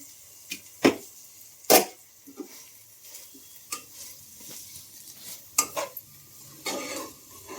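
Cluster bean (guar) vegetable cooking over a low gas flame is stirred in a pan, with sharp, intermittent scrapes and clatters of the spoon over a faint, quiet sizzle.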